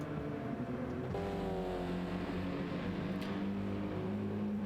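A Subaru race car engine drones steadily from the onboard view in a racing video game, a loud continuous hum whose pitch climbs and shifts through gear changes without letting up.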